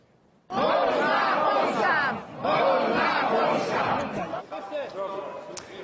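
Street protesters in Warsaw shout and chant in a clash with police, a loud crowd roar bursting in suddenly, surging in waves with a short dip midway and raised voices throughout.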